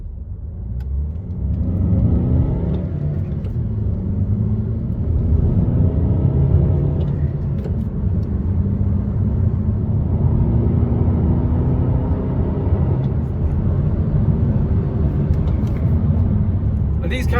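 A Hyundai i40 1.7 saloon with 115 horsepower pulls away in first gear toward a motorway, its engine note rising steadily as the car accelerates, with a low rumbling cabin hum throughout.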